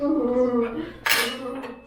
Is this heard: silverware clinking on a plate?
yes